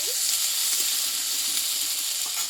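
Potatoes and cauliflower frying in a pan with a ground paste of ginger, green chilli and cumin, giving a steady, close, even sizzle with faint stirring scrapes and no talking.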